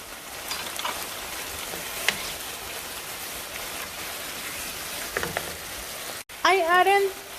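Tomato and squash fry in a pan on a stove over high heat, a steady close sizzle with a few faint clinks, ending in a brief burst of a higher, wavering sound.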